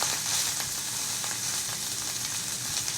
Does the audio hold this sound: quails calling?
no